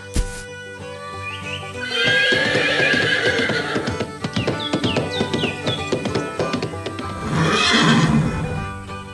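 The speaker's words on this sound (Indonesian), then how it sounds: "Kereta kuda berlarian di bawah langit cerah" A horse pulling a carriage neighs loudly and whinnies again later, with hooves clip-clopping and birds chirping faintly in the background.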